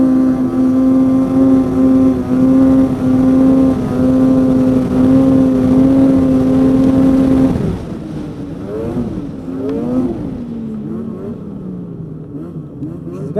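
A Polaris Pro S 800 snowmobile's two-stroke engine holds a loud, steady high whine close by, then drops off and rises and falls in fading bursts as the sled pulls away.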